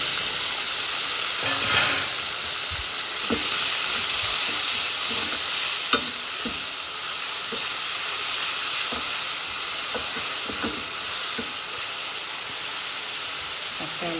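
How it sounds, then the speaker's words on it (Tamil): Onion and tomato sauté in a pan with a constant close sizzle and hiss, while a spoon scrapes and knocks against the pan at irregular moments throughout. "அடுத்தது வெங்காயம் ஓரளவுக்கு வதங்கின உடனே தக்காளி"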